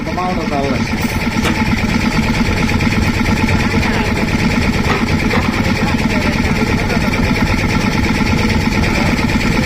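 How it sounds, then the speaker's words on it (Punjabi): A vintage coal-fired steam engine keeps running at a display of old machines, its loud, even, fast mechanical chug continuous throughout, with voices of onlookers in the background. "ਕੋਲੇ ਵਾਲੇ ਇੰਜਨ"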